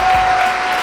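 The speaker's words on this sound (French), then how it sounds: "Je pense que ça s'applaudit, s'il vous plaît." Crowd applause at a French-language entertainment show, greeting a grandfather's marriage proposal: a short, loud burst of dense clapping with a faint steady tone running through it.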